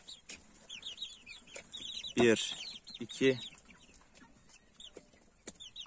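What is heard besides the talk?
chickens clucking inside a chicken tent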